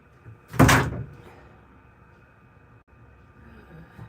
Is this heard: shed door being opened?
yes